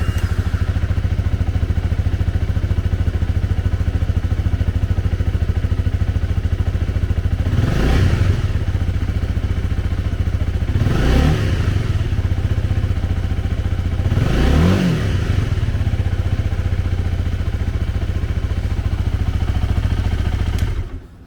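A 2020 Honda CMX300 Rebel 300 with ABS runs at a steady idle close by, broken by three quick revs spaced a few seconds apart before the engine cuts off at the end.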